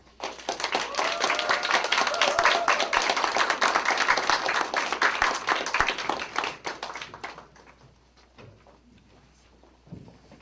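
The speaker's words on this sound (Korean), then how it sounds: "여러분 박수로 환영해 주시기 바랍니다" A church congregation applauds to welcome a speaker at a Sunday university-group worship service, loud dense clapping for about seven seconds that then thins and fades into a few scattered claps.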